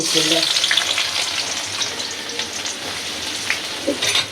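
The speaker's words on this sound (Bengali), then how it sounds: "তেল গরম হয়ে গেছে আমি পেঁয়াজ দিলাম" Onions sizzle and crackle steadily in hot oil, a dense hiss with occasional sharper pops, close by and without speech.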